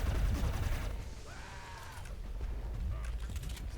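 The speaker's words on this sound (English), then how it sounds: "They're shooting me." Dense gunfire in the video game Inversion, a continuous crackling barrage at steady loudness with brief mechanical creaks and clatter mixed in.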